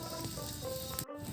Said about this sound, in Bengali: তেল গরম হয়ে গেছে, গোটা শুকনো লঙ্কা ছিঁড়ে দিয়ে দিলাম।